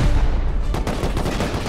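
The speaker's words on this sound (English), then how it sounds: "Shoot that metal frame." Gunshots fired at a metal frame in Rust, a dense run of sharp reports with a rougher burst partway through, close and loud, no talk over them.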